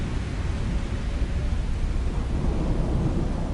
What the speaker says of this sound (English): we woke up outside in a storm